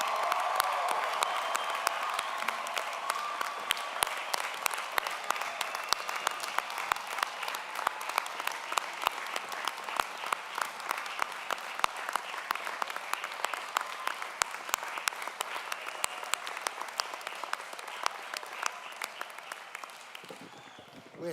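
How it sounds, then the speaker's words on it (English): Sustained, vigorous applause from a large commencement crowd at a university graduation ceremony, dense steady clapping filling the hall for about twenty seconds before tapering at the end. "Could I ask for one vigorous, excited round of applause for every graduate today?"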